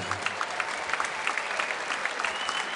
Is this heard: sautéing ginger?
no